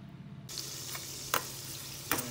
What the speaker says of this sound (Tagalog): Gisa lang natin yung bawang sa mantikilya.